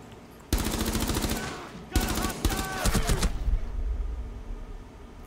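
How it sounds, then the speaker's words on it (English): Rapid automatic gunfire in the video game Rainbow Six Siege, two close bursts of fast rattling shots followed by a fading echoing tail. "I will shoot that."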